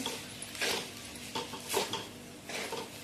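Coconut rice stirred in a pot over low heat, spoon scraping and clinking against the metal in a few short bursts, close and fairly quiet, no voices.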